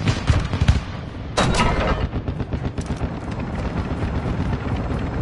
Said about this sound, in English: Our chopper gunner is inbound hot.